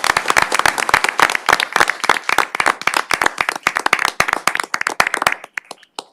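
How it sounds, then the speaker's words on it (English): Sustained round of applause from an audience at a city council meeting in Victoria: dense, loud clapping for several seconds that thins out into a few scattered claps at the end. "if you wouldn't mind joining me in a round of applause for them"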